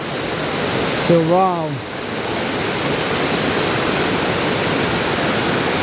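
Floodwater after heavy rain roars steadily through Sunnyhurst Woods in Darwen, a loud, continuous broadband rush filling the whole scene, with a brief spoken exclamation near the start.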